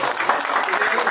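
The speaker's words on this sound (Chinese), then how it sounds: "我请大家都给大家一个鼓掌" An audience at a live Q&A session applauds, with a short, loud stretch of dense clapping and a voice faintly audible beneath it.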